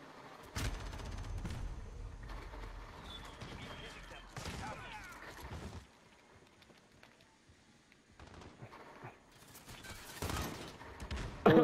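Shotgun blasts in a video game come in scattered bursts of booming shots with quieter gaps between, mixed with game noise and a streamer talking over parts of it.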